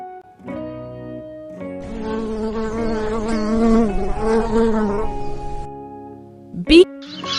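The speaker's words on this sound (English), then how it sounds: "Bee." A bee buzzes steadily for several seconds over background music, a droning hum that swells and fades, followed by a brief sharp sound.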